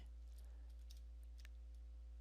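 Faint, sparse keystroke clicks on an HP EliteBook 840 laptop keyboard as commands are typed, a few taps scattered over a low steady hum.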